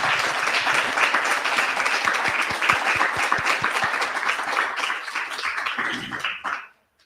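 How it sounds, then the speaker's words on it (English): Audience applause at a Pratt Test Kitchen talk, dense steady clapping from a crowd that carries on for several seconds and then cuts off abruptly near the end, with no talking over it. "I don't have to even thank the audience for the applause."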